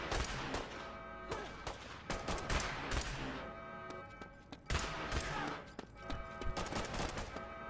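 Repeated bursts of gunfire as dwellers fight off a raider attack in the Fallout Shelter video game on PS4, irregular volleys of shots rattling across the whole stretch with short lulls between clusters, loud and close over a steady game background.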